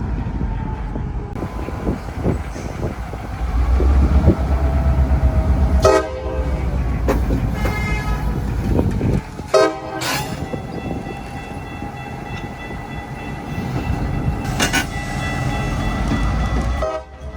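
Loud rumbling CSX freight train switching cars slowly on a downtown spur, with clanking couplers, metallic bangs and squeals, plus a short horn toot partway through.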